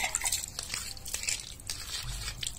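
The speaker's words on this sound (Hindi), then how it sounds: "तो चलिए मसाला तैयारी करने के लिए बढ़िया से पत्थर से धो लेते हैं।" Water splashes and drips over a stone grinding slab as it is rinsed clean for preparing spices at a village riverside, a close, steady wet sloshing with scattered drips and squishy rubbing.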